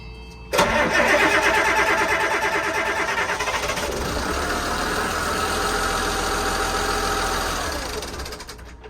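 A diesel engine cranks and roars to life abruptly, then settles into a loud, steady clattering idle that fades slightly near the end.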